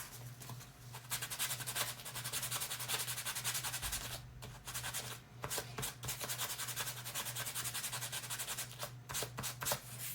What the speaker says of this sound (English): I'm gonna sand this muzzle a little bit because it has a little bit of a rough cast to it.